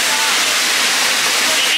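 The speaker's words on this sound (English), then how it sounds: "we are underneath the waterfall" A waterfall in Southern Iceland roars from directly underneath, a loud, dense, unbroken rush of falling and spraying water that fills the whole moment.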